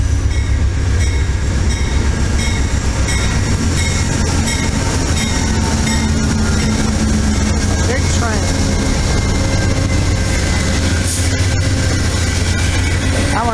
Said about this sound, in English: I hear a train, but this is not my train. This is an Amtrak train